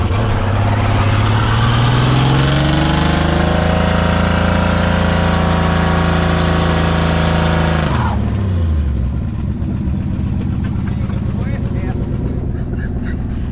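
A Dodge Challenger's V8 engine idles loud and steady, revs rising for a stretch before dropping sharply and settling into a rougher, lower rumble, with voices talking over it.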